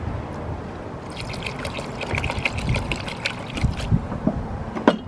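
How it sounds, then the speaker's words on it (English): Water is poured and sloshed over sticky rice in a bowl for rinsing, a close, splashy trickle and swirl with small clicks of grains, moderately loud and continuous. "Add a little bit more water."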